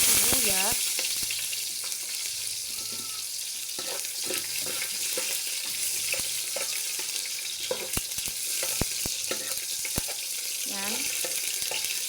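Onion sizzling and frying in a pan after garlic has browned, a steady crackling hiss with occasional stirring scrapes and tapping, with faint voices and tonal speech-like sounds over it.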